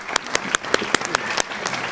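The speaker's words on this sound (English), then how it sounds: "How about some raucous enthusiasm and applause for that?" Raucous studio applause from a small live crowd on a talk radio show, with sharp claps and a few whoops rising over steady clapping for about two seconds.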